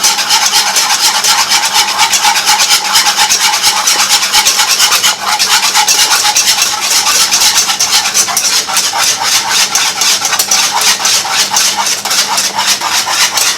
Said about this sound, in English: So you have to whisk it like a lot, or your eggs will scramble.